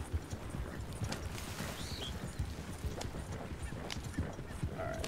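Hoofbeats of a horse following a rider in Red Dead Redemption, a steady clip-clop close by that runs the whole time, with a brief faint whinny near the end.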